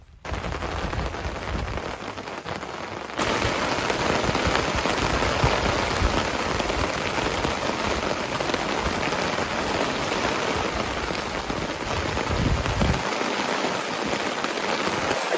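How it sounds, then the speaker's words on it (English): Heavy rain and gusting wind batter a truck tent in a dense, loud, unbroken roar of drumming drops that holds steady throughout, with no voices. "It is raining way harder and it is way windier than it was yesterday."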